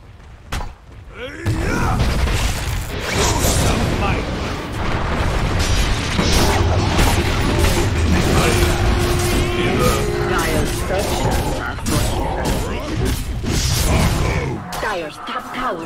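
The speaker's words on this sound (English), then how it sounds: "Dire's top tower has fallen." A tower collapsing in the Dota 2 video game during a TI12 match sounds as a loud, sustained rumble of booms and crashing impacts, full and dense over about fourteen seconds, with game effects layered throughout.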